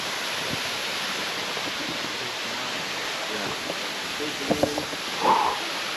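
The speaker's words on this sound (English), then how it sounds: "That's a nice waterfall." Sturtevant Falls, a waterfall on a wilderness hike, pours as a steady broad rushing hiss close by, with brief faint voices and small knocks near the end.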